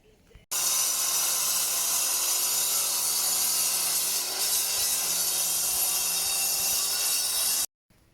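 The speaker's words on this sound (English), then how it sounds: "So out grinder." An angle grinder grinds down a stone wall on an extension build. It cuts in abruptly and holds a loud, harsh, steady high-pitched whine for about seven seconds, then stops sharply, with no talk over it.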